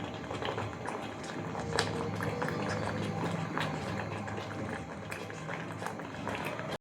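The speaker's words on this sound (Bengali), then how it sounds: "সুজি কিন্তু প্রায় ফুটেই গেছে, আর অল্প একটু ফুটবে।" Semolina (suji) simmers in a pot, a continuous close bubbling and hissing with scattered small pops, steady in level throughout.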